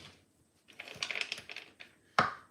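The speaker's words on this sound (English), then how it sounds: "so you want to cut small pieces" Knife chopping chocolate into small pieces for French hot chocolate, a quick run of crisp, close crunching cuts followed by one sharper louder chop near the end, with no talking.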